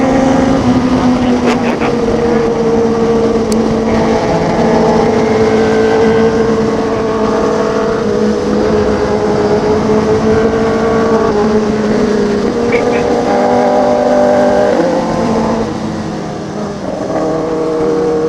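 A motorcycle engine drones steadily and loudly nearby, its pitch rising and falling slightly as it idles and revs, with faint voices in the background.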